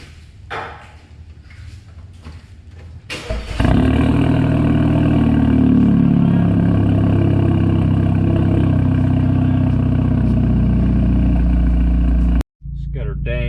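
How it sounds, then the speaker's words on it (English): A 2008-era Audi B8 A4 engine cold starts after some handling noise, catching with a loud burst and then settling into a steady, close, droning idle that cuts off abruptly near the end. "A little bit of a cold start here for you if I can balance this thing."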